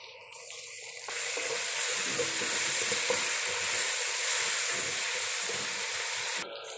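Tomatoes sizzle and fry in a pan while being stirred, a steady, close hiss that starts after a brief moment and continues with scraping stir sounds, no talking.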